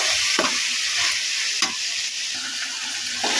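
Chicken biryani with cardamom powder being stirred in a pan: a steady, close frying hiss with a few sharp scraping strokes spread through it, no voices.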